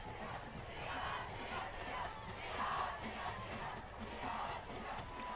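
A high school football crowd at a Summit versus Nolensville game roars in sustained cheering and yelling for the Nolensville defense, a broad distant wash that swells and dips in waves.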